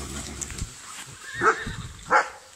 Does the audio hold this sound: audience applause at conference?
no